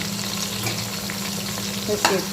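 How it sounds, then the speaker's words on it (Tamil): Onions for beef biryani frying in hot oil, a dense steady sizzle with soft stirring scrapes and a brighter clink of a utensil near the end, set over a low constant hum. "நான் இப்போ 200 கிராம் வெங்காயம் சேர்த்து"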